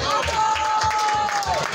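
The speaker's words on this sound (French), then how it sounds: "on peut les applaudir s'il vous plaît" Applause from an audience at an evening gala for community managers, a dense, steady wash of clapping that holds at full strength throughout, with a faint sustained tone running beneath it.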